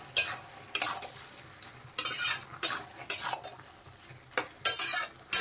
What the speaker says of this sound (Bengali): আর একটু নেড়ে চেড়ে দেবো এবার।